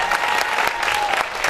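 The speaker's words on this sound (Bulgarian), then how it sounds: "Вашите аплодисменти и за Роси Стоицова," A festival crowd claps steadily for organiser Rosi Stoitsova at a closing ceremony, a short, even burst of applause with a faint tone in the background.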